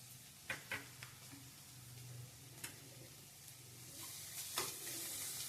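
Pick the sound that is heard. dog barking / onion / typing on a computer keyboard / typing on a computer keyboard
onion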